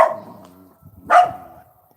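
A dog barks twice nearby, loud and sharp, with a short pause between the barks.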